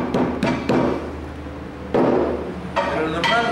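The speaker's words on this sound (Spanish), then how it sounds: "si tratamos primero con un martillo" Papyrus stalks are pounded with a hammer, giving several hard, close thuds at irregular intervals, with quieter handling sounds between the blows.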